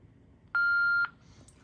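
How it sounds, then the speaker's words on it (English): A Panasonic KX-TCM422 answering machine from the 1990s gives a single steady electronic beep, about half a second long, over a quiet background hiss, with a faint chirp just after it. "Please leave your name and phone number after the beep"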